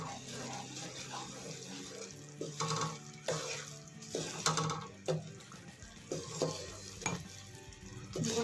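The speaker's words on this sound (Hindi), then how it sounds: "हाथ मत रोकिएगा, अपना चम्मच चलाते रहे" Spoon stirring melting jaggery in a pan for sesame laddu, with soft scraping strokes and quiet bubbling at an uneven rhythm, close but faint, with no speech.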